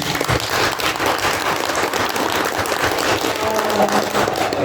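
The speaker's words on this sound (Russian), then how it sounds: "Давайте похлопаем." A literary audience at a Yakutia writers' union event applauds a veteran writer, dense sustained clapping from a roomful of people running steadily throughout.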